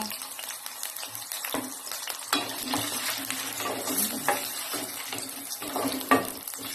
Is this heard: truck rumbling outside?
no